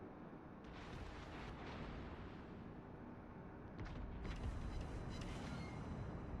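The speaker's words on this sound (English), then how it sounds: "We're just going to have one shot at the Bismarck here. I'm not sure what her shots are going to be like, but let's fire them out there." Heavy naval guns fire at the German battleship Bismarck in World of Warships, a steady roar of broadband blasts and rumble that swells louder around the fourth second, with no talk.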